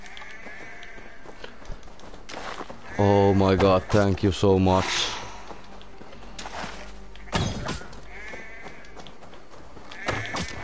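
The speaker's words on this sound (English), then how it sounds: "sheep." A sheep bleats loudly in Assassin's Creed Valhalla, a wavering nasal cry repeated in a short burst, among game effects and someone talking excitedly.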